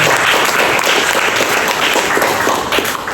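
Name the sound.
congregation applause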